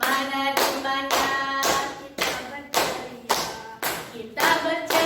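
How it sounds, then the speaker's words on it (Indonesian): Audience clapping in unison at a children's science show on a hot-air balloon experiment, slow rhythmic group claps with ringing musical tones underneath, about nine beats spaced evenly across the clip. "Semuanya bantu tepuk tangan supaya rame."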